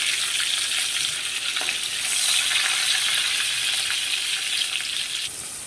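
Mustard seeds, curry leaves and chopped green chili sizzle steadily in hot oil in a clay pot while making pav bhaji, a loud, continuous close-up crackle with a brief surge midway.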